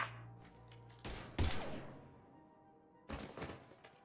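Gunfire in the video game Mass Effect 3 comes as two loud bursts, one short volley and then a second one after a quiet pause with faint background tones.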